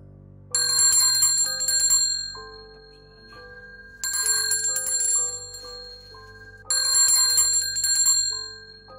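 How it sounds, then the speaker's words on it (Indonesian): A bell rings out three times, each ring a loud, bright peal spaced a few seconds apart, with lingering metallic tones between strikes. "Lonceng itu selalu berbunyi sebanyak 3 kali."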